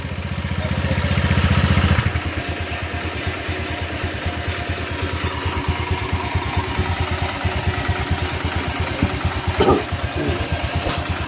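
A Honda Click 150 scooter engine starts with a rough burst, then settles into a steady, rapid putter close by, with a faint clatter throughout.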